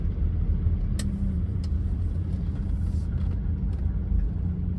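A Vauxhall Omega V6 engine idles roughly with a low, uneven rumble and occasional faint ticks, steady and close, with no talking.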